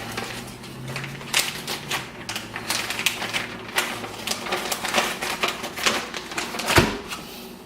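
Knife slicing the fat cap off a New York strip steak, trimming it to a quarter inch on both sides at an angle: a steady run of close, crisp cutting and scraping strokes with a dull thud near the end, no talk.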